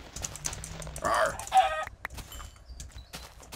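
Chickens cluck in a Minecraft game, short clucks and squawks scattered under a faint voice and light clicking, fairly quiet and close.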